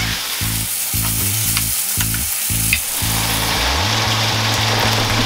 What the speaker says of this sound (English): So I'm just frying up the chicken.